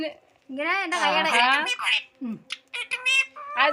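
Harsh, raspy bird squawks come in short bursts, loud and close, mixed with voice-like chatter that could be a parrot mimicking speech.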